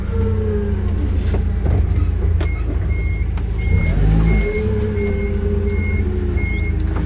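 A Toyota 02-8FGF20 gas-powered forklift pulls away with its engine droning steadily while a reversing alarm beeps in an even repeating rhythm, close and moderately loud throughout.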